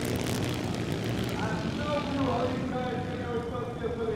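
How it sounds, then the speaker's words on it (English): Racing motorcycle engines at the Motoverse 2023 champion-of-champions final, a continuous droning roar with a buzzy rising pitch, heard under an announcer talking. "I love the sound of the motorcycles."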